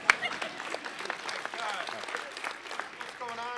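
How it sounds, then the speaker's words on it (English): Audience applause at a prisoner reentry conference, a modest scattered crowd clapping at a distance, fairly soft and uneven, with a voice speaking over it near the end. "Somebody clap for Hudson County."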